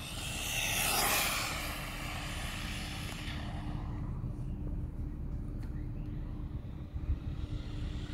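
An Absima AB3.4 RC car on a speed run at full throttle, a loud high-pitched motor whine surging close early on, then fading off into the distance over steady background noise.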